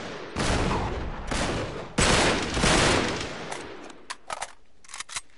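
AK rifle fire in an Uncharted 3 Drake's Deception match: loud sustained automatic bursts for several seconds, then a few sharp separate shots and short rattles as the firing tapers off.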